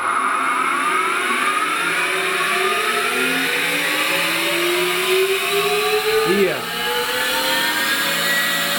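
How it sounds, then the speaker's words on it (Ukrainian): A 3A227P internal grinding machine spindle whirs steadily, its high whine climbing gradually in pitch as it spins up, with a continuous mechanical hum underneath. "Ми включаємо шпіндель шліфувальний."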